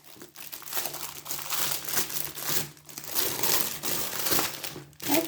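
Paper booklet packaging for a diamond painting kit being opened, with steady close crinkling and crumpling that swells and fades in waves for several seconds, no talking.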